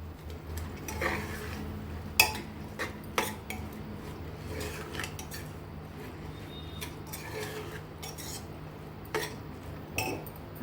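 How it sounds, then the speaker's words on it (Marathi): Sprouted moth beans being stirred in a pan with a metal spoon, giving repeated close clinks and scrapes against the pan over a faint frying hiss, with no talking. "तर चांगली ढवळून घेऊया"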